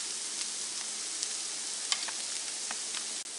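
Zucchini kebabs fry in a pan with a steady, even sizzle, punctuated by a few sharp pops and crackles of hot oil, close by and without voices.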